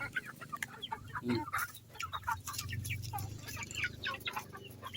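A dense flock of chickens, including black Australorps, clucks and chatters continuously, many birds at once, close and busy.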